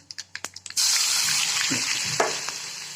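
Garlic and green chillies are dropped into hot oil already holding cumin and mustard seeds: a few crackling pops, then a sudden loud, steady sizzle that continues with faint stirring noises.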